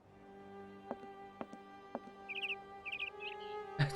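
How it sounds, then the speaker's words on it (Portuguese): Small bird chirping in the video game Syberia: a few short, bright twittering bursts in the latter half over a steady hum, with several soft knocks earlier and a louder thud at the end. "Tinha um passarinho."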